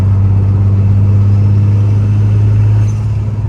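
Boosted Nissan 240SX S14 Zenki drift car with forged internals, its engine running loud and close with a deep steady hum that eases slightly near the end, no talk.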